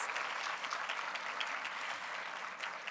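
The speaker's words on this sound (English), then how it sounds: "Can we have another round of applause for our class of 2028, the class of gold," A crowd applauds the graduating class of 2028 at a Grade 5 moving-up ceremony, an even, sustained clapping from many people with no speech over it.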